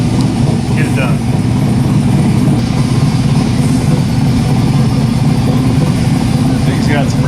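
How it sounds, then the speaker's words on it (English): A car with a loud, rowdy exhaust idles close by in a steady, throaty low rumble that holds constant, in a workshop where an AMC Model 20 rear axle is being rebuilt. "Thing's got some rowdy exhaust on her."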